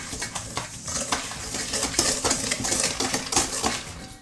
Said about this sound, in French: Donc faut fouetter ça.